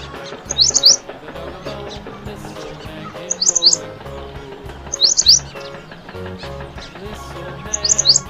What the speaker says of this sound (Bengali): বয়ে বুলবুলিটির মুখটি কালো